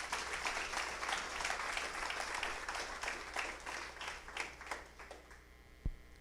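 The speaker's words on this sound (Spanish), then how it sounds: "Démosle un aplauso a Jesucristo, hermano" A church congregation claps at a sermon, a moderate, fairly distant patter of hands over a low mains hum, thinning out near the end with a single bump.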